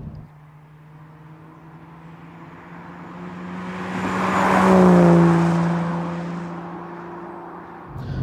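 An Aston Martin DB9 engine of about 450 horsepower accelerates, its steady tonal drone swelling to a loud peak midway and then easing back, with no one talking.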